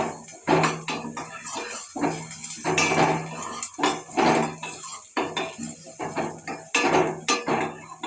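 Onion and chilli being stirred in a pan for lemon rice, with a metal spoon scraping and clanking against the pan in repeated, rhythmic strokes, close and fairly loud, with no talking.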